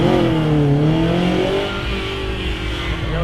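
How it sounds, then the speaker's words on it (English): Drag car engine revving hard at a racing event, a loud sustained roar with rising and falling harmonic sweeps, held close and steady throughout. "He's revving that a lot,"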